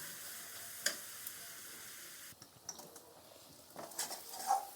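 Spice paste with sugar sautéing in a pan for a Bengali ginger black catfish curry, a faint steady sizzle with occasional soft clinks and scrapes of stirring near the end.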